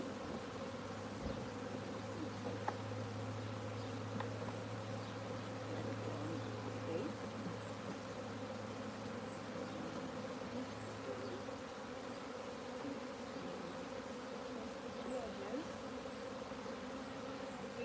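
Agitated honey bees buzz steadily from an opened hive during maintenance, a dense continuous drone close by, with a low hum held for several seconds and faint handling noises underneath.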